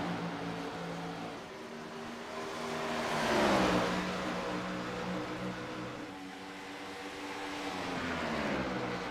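A stock car engine in an oval racing video game at Dover Speedway drones near its rev limiter, a steady buzzing roar whose pitch swells and dips as it passes, with other engines audible around it.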